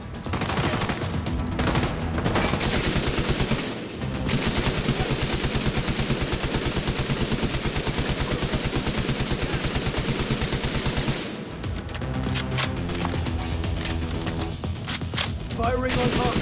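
Sustained automatic gunfire during a ferry-securing mission in The Division 2: Warlords of New York, a dense, loud barrage of rapid shots with music and effects layered over it, thinning into scattered bursts near the end.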